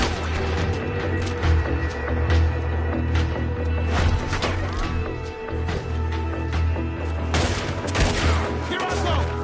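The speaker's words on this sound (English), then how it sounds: "He's going for the Gatling! Look out, he's firing!" A Gatling gun firing in a video game, bursts of rapid shots over a dense battle din, with voices shouting over the gunfire.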